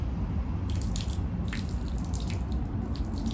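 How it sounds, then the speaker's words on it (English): Water runs from a tap over a sticky tablespoon being rinsed off, a low steady rush with scattered small splashes and clinks, fairly faint and close, with no one talking. "I'm real quick just gonna wash it off with some water."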